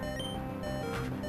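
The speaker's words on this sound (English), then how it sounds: "Sorry for the beeping" Faint electronic beeping in a room, a steady tone that holds through the short moment.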